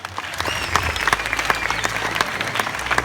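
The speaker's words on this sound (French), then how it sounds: "on vous applaudit très fort" A live audience at a hypnosis show breaks into loud, sustained applause, a dense wash of clapping that holds steady throughout with no talking.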